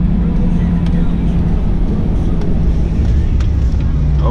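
A 2019 Corvette ZR1 engine accelerates hard through the gears, a steady loud roar with heavy low rumble and wind buffeting close to the microphone throughout.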